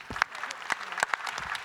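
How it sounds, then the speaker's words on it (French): An audience at a trade union services congress applauds, close and fairly loud, with sharp individual claps standing out over a busier crowd layer. "que je vous remercie d'applaudir"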